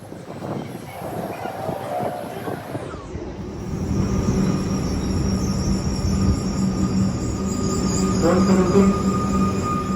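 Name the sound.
train ride to Flinders Street, Melbourne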